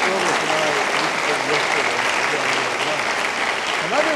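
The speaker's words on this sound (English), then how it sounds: "Let's give Sharon and his team a big round of applause." Loud applause from the audience at St. John's University's 2018 State of the University address, a continuous dense clapping that stays strong throughout, with voices faintly audible underneath.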